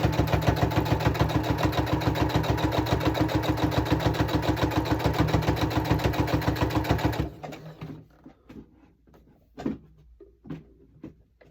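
A sewing machine runs steadily while coasters are sewn, a fast, even mechanical chatter that holds for several seconds and then stops, followed by scattered clicks and handling sounds.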